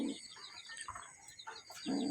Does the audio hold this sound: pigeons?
yes